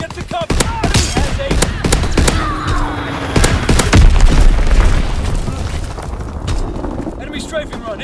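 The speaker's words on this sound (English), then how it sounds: "Enemy bomb incoming! Get to cover!" Heavy bomb blasts and rattling gunfire fill a Call of Duty WW2 battlefield, with booming impacts and rapid bursts throughout, loud and dense, with shouted voices mixed in.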